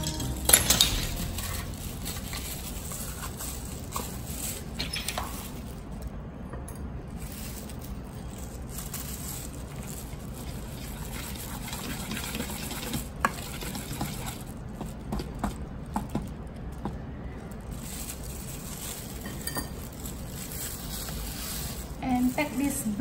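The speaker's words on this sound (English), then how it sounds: "Mix together." Batter for a steamed pumpkin cake, with baking soda just added, is stirred in a bowl: a steady run of light utensil clinks and scrapes against the dish, close and moderately quiet, continuing throughout.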